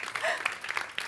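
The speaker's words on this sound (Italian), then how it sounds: "Facciamo anche un applauso a Cesare Trevisani" Brief burst of crowd applause at an outdoor evening fashion show event, moderately loud clapping with a faint voice mixed in.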